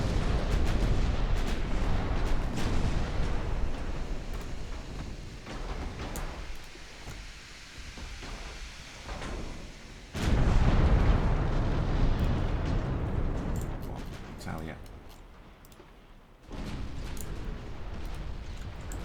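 Five-inch battleship guns fire in a naval video game, giving heavy booming blasts with a rumbling roar that dies away. Several loud shots land over a continuous low background.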